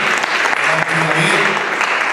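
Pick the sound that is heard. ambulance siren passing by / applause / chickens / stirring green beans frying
applause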